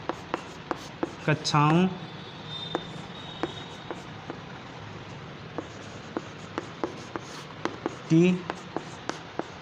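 Chalk tapping and scraping on a classroom board as a teacher writes notes, short scattered strokes and taps through the clip with speech in the room and two brief louder voice bursts.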